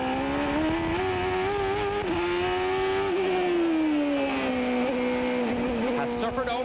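A CART IndyCar race car at Laguna Seca in 1995 holds a loud, sustained engine whine that rises and falls with throttle, sounding close and continuous.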